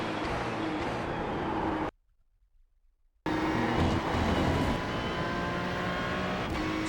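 A race car at Spa in iRacing roars loudly and steadily through the corner with engine pitch shifts as it drops gears, broken by roughly a second of near-silence before the engine noise returns just as strongly.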